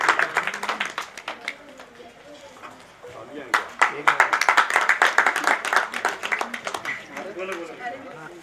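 Applause and clapping from an audience at a new branch inauguration ceremony for IMC Khushi Herbal, starting light and swelling into louder, dense clapping that continues throughout, with some voices underneath.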